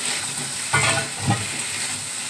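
Eggs and potatoes hitting a hot spiced pan for a Bengali egg curry, giving a steady close sizzle with two brief louder bursts of frying as they go in.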